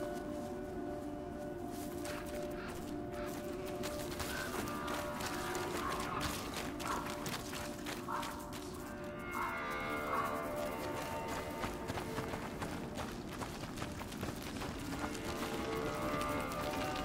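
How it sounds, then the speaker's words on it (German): Horse running in the video game A Plague Tale: Innocence, its steady galloping hooves mixed into a dense, continuous game soundscape with music and ambience throughout. "Das Pferd."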